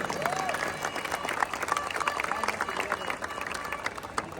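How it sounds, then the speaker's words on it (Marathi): Crowd applause at a Dahi Handi festival event with Govinda Pathak teams, steady dense clapping and crowd noise throughout, fairly distant, with a faint voice rising briefly near the start. "टाळ्या जोरदार यांच्यासाठी झाल्या पाहिजेत."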